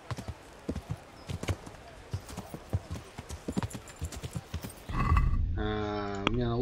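Hooves clop in an uneven trotting rhythm as a horse is ridden in the video game Kingdom Come Deliverance, followed by a louder rush of movement and a horse's whinny near the end.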